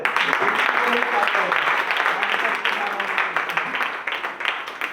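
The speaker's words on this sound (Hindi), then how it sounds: "बहुत ऊंचा हाथ उठा कर एक बार तालियां हो जाए" An audience at a business gathering claps with raised hands, steady broad applause mixed with a voice speaking over it throughout.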